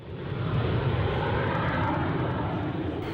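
An L-39 Albatross jet trainer roars overhead in a steady, loud engine drone that swells in quickly and holds throughout, with no voices.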